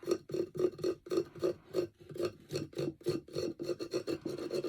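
Paint is rubbed off a picture frame to reveal gold and blue beneath, producing close, rhythmic rasping back-and-forth strokes, roughly three or four per second, with no talking.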